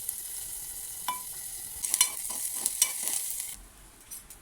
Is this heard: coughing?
no